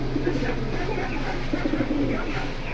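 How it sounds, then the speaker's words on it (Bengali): Pigeons in a loft coo continuously in a soft, overlapping murmur, close by and fairly loud against a low background hum. "তারাবাই লফটে কিন্তু আজকে খুব সুন্দর সুন্দর কবুতরের কালেকশন আছে"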